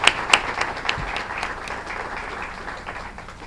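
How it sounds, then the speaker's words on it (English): Audience at a Student of the Month event claps in a burst of applause, with a few sharp, loud claps at the start that settle into a steady, softer patter over several seconds. "So let's give them all a great round of applause."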